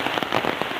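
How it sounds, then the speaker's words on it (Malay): Heavy rain falls on a village, a dense, steady patter of drops striking nearby surfaces with no voices. "Kini sedang hujan labek di sana ya."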